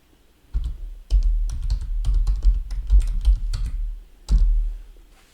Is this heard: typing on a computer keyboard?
yes